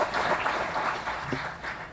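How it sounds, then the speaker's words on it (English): Audience applause at a conference session on financing peace, a steady, soft wash of clapping that fills the whole stretch at moderate distance, with no voices over it. "Could we please give them a round of applause?"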